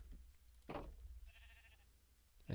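Sheep in the video game Minecraft bleat in short, faint calls spaced across a quiet background.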